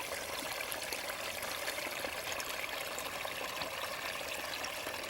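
A small woodland stream flows steadily at a state natural area near Wisconsin Dells, making a continuous close-up trickling rush with no voices over it.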